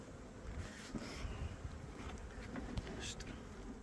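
Annoyed honey bees buzz after a sugar shake Varroa mite test, a close, agitated drone with individual bees whizzing past the microphone and some wind noise.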